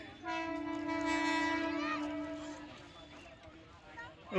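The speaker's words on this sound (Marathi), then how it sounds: "आली आली बघ, गाडी आली." A local train pulls into a station, its long horn blast sounding steadily for about two seconds before fading into rolling rail noise beneath nearby chatter.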